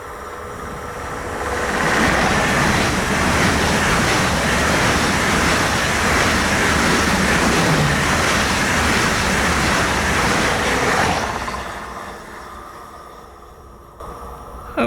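An RE8 regional train pulls into a German station platform with a loud, sustained roar and rumble that holds steady before fading out as it slows to a stop; no one speaks.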